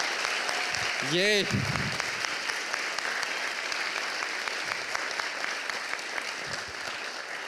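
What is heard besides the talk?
conference audience applause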